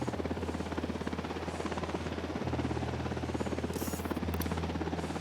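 A helicopter thrums in Ghost Recon Wildlands, a steady low rotor beat and engine hum that holds for several seconds at moderate distance, with no talk over it.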